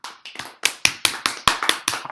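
A group of children claps in a classroom, about a dozen sharp, uneven claps close by with no talking.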